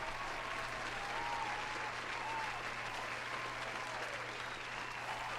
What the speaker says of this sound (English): Let me give Matt his round of applause for winning once again.